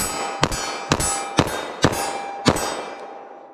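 .45 ACP Winchester Silvertip pistol rounds strike a steel target in five sharp metallic clangs, spaced roughly half a second apart, each ringing briefly before the next, with a fading ring after the last.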